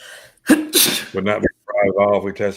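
One sharp, loud sneeze bursts out near the start, followed at once by someone talking close to the microphone.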